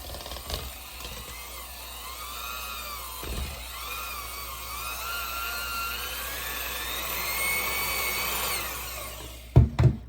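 An electric mixer runs steadily through eggless chocolate chip cookie dough with a continuous whirring drone, nearby and moderately loud, with a couple of knocks and a clatter as it stops at the end.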